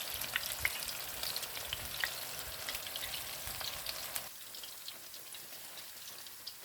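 Spinach, potato and onion pakoras frying in hot oil and being stirred: a steady crackling sizzle with scattered pops, continuous and close, that softens slightly toward the end, with no talking.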